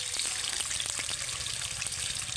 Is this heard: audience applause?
no